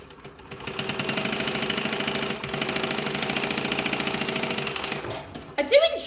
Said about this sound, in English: and then we'll top stitch it down.